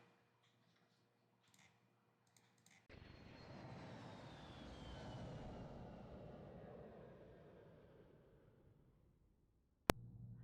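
An airplane sound effect in a video game, an Ocarina of Time randomizer, swells in as a droning engine hum that grows, peaks and fades over several seconds, ending with a sharp click.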